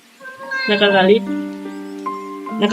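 A house cat meows loudly and repeatedly, close by, its drawn-out cries overlapping with someone talking.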